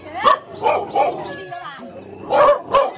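Dog barks several times in short bursts, near and fairly loud, around a Vietnamese village house, while people talk over and between the barks.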